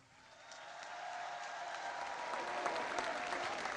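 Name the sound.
crowd applause during speech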